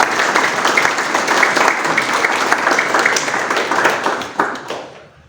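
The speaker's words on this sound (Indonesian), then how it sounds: "Tepuk tangan bagi Yesus." A congregation at a Sunday church service claps in sustained, dense applause that fills the room, then tapers off and fades out near the end.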